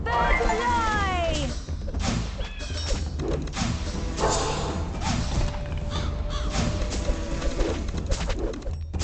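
Blackbirds in the Kingdom Rush Frontiers video game give loud harsh caws and cooing calls amid busy battle sound effects, with game voices talking over the dense, continuous din.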